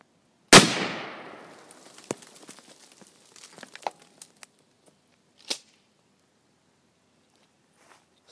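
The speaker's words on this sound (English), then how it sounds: "we're going to be shooting a drum cymbal with a shotgun" A single loud 12 gauge shotgun slug blast hits a drum cymbal outdoors, giving a sharp crack followed by a long metallic ring that fades out. Brief clicks and faint knocks come afterward.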